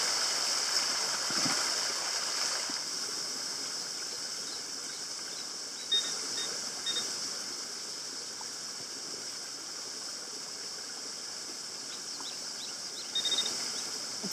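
Creek water flows and babbles steadily nearby, with faint bird chirps now and then above the constant rush.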